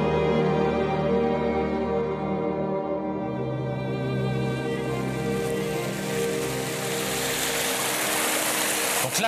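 An autumn river flows with a broad, steady rushing hiss that swells in after a humming tonal drone fades, then holds evenly and fairly close to the end.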